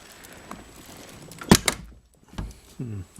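An interior door handle on a Lotus Elan being tried during door trim assembly, giving a few sharp latch clicks and clunks followed by a heavier door thud, close and fairly loud, with a brief voice near the end.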